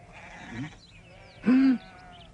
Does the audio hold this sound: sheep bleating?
yes